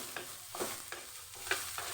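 Garlic frying in a pan while being stirred, a soft steady sizzle broken by about five light scraping strokes spaced roughly every third of a second. Quiet and close, with no talking.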